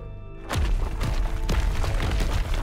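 Video game explosion bursts in after a brief silence, a heavy booming thud followed by repeated rumbling impacts and crashes that stay loud throughout.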